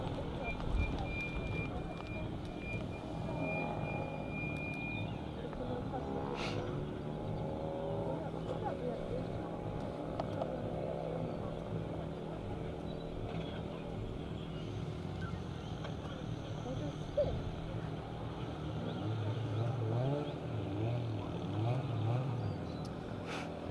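Rally car driving out of the Havre and Sweetland special stage of the Severn Valley Stages, its engine droning steadily and fairly loud through wind noise, with a commentator talking over it.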